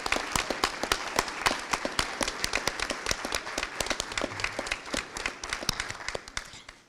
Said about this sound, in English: your applause was louder than what these folks are going to get